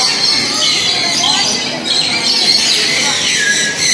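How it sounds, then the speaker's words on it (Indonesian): Many birds call at once inside a large zoo aviary, a dense chorus of close, shrill chirps and squawks with a constant hiss of background noise. "Banyak banget nih burung-burungnya di sini."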